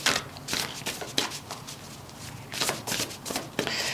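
Tarot cards being shuffled in a repeated run of soft, papery riffling bursts at close range, with no talking.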